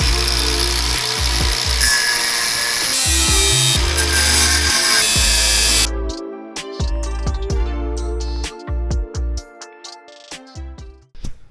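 A power tool cutting the steel chassis rails of an Opel Kadett project car, a loud continuous grinding whine for several seconds, then cutting off into intermittent clanks, ratchet clicks and metallic knocks nearby.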